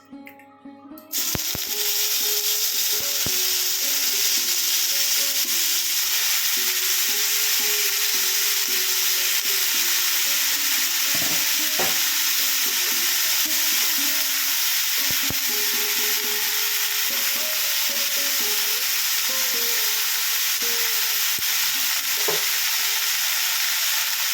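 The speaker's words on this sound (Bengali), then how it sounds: "ভাপানো ফুলকপিগুলো এর মধ্যে দিয়ে দিচ্ছি।" Steamed cauliflower, salted, fries in a little oil in a pan under a loud, continuous hiss of sizzling that starts abruptly after a brief opening. Occasional scraping stir strokes rise above it, close up, with no speech.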